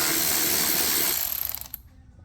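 Ratchet wrench clicking as it loosens Torx T25 bolts on the oil filter housing of a BMW N55 engine, a quick run of close, loud mechanical clicks that slows and fades into a few last isolated ticks.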